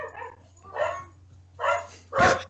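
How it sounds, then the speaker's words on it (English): A dog barks somewhere in a house, four separate barks spaced out over a couple of seconds, each louder than the last, over a steady low hum. "see the dog in the background"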